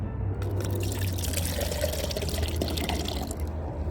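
Liquid fertilizer mix being poured into a container of soaking plants, a steady close splashing pour with trickling water running throughout, no talking.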